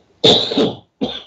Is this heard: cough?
yes